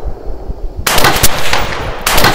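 Gunshots are fired at a shooting-range target 100 yards out, a few loud, sharp cracks in quick succession with brief gaps between them, close and powerful.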